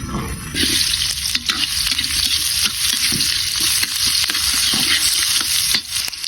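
Ginger, garlic and onion sautéing in a pan for chicken-feet tinola, a loud close sizzle with frequent rhythmic spatula scrapes and knocks against the pan.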